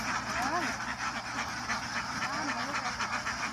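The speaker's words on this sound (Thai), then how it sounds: "เป็ดไข่600ตัวนะครับพี่น้อง" A flock of about six hundred laying ducks on a Thai duck farm quack continuously, a dense overlapping chorus close by and fairly loud, with no speech over it.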